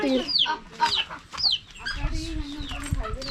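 Hens cluck repeatedly in short, bright bursts, fairly close, with a low background rumble and some scattered noise.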